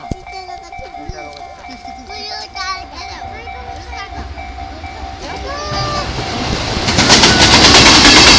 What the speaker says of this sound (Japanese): お、これは貨物かな？ お、貨物だ。